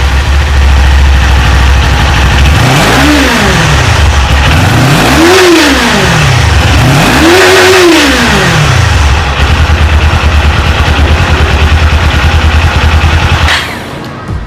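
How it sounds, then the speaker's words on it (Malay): Up close, a Modenas Z500 naked sportbike sits at a loud, steady idle and is revved three times in a row, each rev climbing and falling smoothly, before dropping back to idle and cutting off. "Jom kita rem sikit motor ni"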